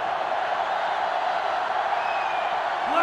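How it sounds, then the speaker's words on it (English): A stadium crowd roars steadily in NCAA Football 2005, a dense, continuous wash of cheering that stays loud and even throughout, with no announcer speech. "this crowd is going absolutely insane"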